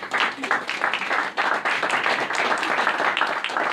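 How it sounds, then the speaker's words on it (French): An audience at a press conference claps for a group of female students, a dense burst of applause from many hands that dips briefly midway and then carries on steadily. "je pense qu'il faut les applaudir, les étudiantes"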